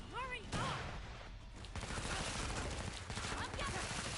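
Bursts of MP5RAS submachine gun fire in Killing Floor 2, rapid gunfire over a dense game soundscape with short whistling tones early on; fairly quiet overall.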